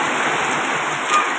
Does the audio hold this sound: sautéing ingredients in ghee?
no